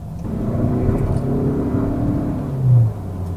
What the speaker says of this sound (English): Let's take it up one of Vancouver's steeper hills and see what the pep is like